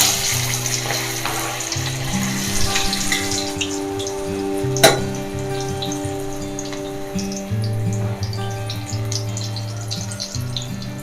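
Veg Manchurian balls deep frying in hot oil, a loud, continuous bubbling sizzle up close with one sharp clink of a utensil against the pan partway through, and no voices.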